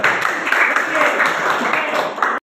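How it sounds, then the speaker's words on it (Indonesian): Group of people clapping for the first student group in a classroom, a steady dense patter of hands lasting a couple of seconds and then cutting off abruptly. "Oke, tepuk tangan dulu buat kelompok satu."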